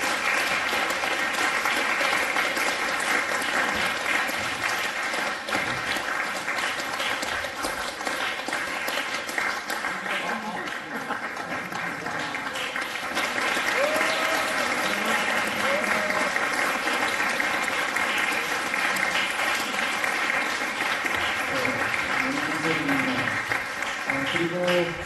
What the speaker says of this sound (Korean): 다시 한번 박수로 환영하고요.